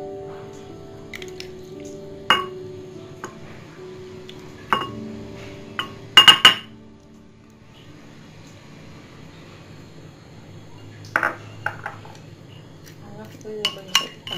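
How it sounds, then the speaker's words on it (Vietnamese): A spoon stirs a turmeric marinade in a bowl for braised grass carp, giving a few scattered clinks and knocks against the bowl over quiet kitchen background. "Rồi mình khuấy tan đều cái hỗn hợp này"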